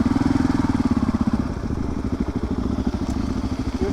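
A motorcycle ridden with steady throttle control, its engine thumping in a fast regular pulse, loud and close with steady wind rush.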